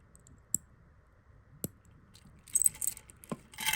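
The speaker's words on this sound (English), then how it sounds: "Now let's close it back up. Heard that nice click." Metal Cuban link chain clasp snapping shut, with a few sharp, isolated clicks spaced apart, followed by brighter jingling metallic rattles of the chain links, close and fairly quiet.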